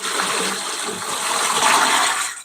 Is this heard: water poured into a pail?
yes